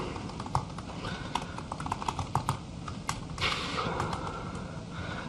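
Typing on a computer keyboard during a live coding demo at a conference, quick irregular clicking close by over a steady background hiss.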